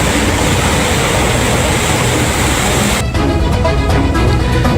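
Train rolling slowly over a repaired railway track after flooding in Demak, a loud, steady rumbling roar that shifts to rhythmic clattering of wheels partway through.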